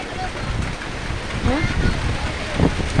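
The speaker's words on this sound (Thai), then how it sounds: "ดูฝนเลย" Steady rain pours down outdoors near rice fields in Thailand, a dense hiss with some wind rumble, and a voice faintly chatting beneath it.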